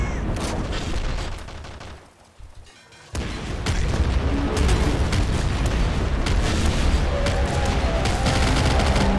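Rapid, dense barrage of bazooka rocket blasts and gunfire in the game Nuclear Throne, loud and continuous with a brief dip into quieter rumble before the explosions resume and build.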